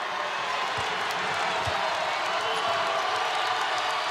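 South Dakota Coyotes fans at a Summit League championship basketball game against South Dakota State, a steady, loud arena roar of cheering and clapping with a few dull ball bounces underneath.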